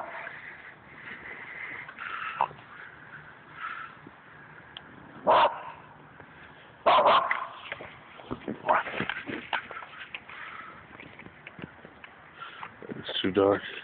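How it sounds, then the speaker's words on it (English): A dog barks outdoors in the dark at a snowman in a few sharp, scattered bursts, with quieter whimpers between them and a person talking over much of it. "there's a snowman over there that she won't stop barking at."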